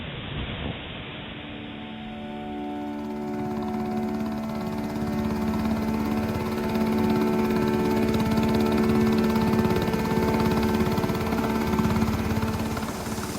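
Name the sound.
Coast Guard helicopters flying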